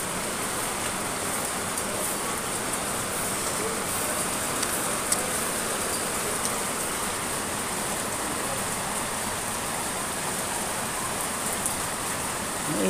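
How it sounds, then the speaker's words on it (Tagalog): Sunshower rain pours down in Lipa, Batangas, making a dense, continuous roar of falling water at fairly close range that stays level from start to finish. "May init na ulan."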